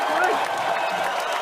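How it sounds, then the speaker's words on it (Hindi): Audience applause at a Hindi singing quiz show, a dense, loud wash of clapping from a crowd that continues steadily throughout. "हमारे लिए क्लैपिंग।"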